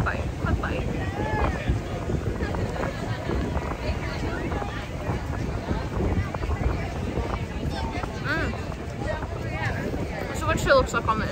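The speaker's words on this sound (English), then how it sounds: "It's so windy, I'm gonna lose the plate." Gusty wind buffets the microphone in a continuous low rumble at Epcot, while a person talks over it.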